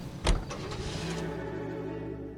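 Car noises in the video game L.A. Noire as the player climbs in: a sharp thump like a door closing, then a low engine idle humming steadily with no speech.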